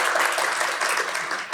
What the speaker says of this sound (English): a round of applause for Dr. Berlin.